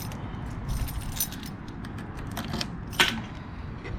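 Metal keys jangle close by at the ignition of a Ducati Panigale V2 motorcycle, a soft steady rattle with a sharper clink near the end.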